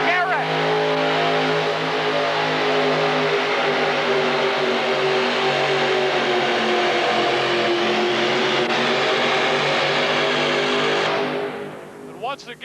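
A modified pulling tractor with a 427 Chevy engine at a 1986 tractor pull roars loudly and steadily for several seconds, its pitch climbing slowly under an announcer, then cutting off near the end.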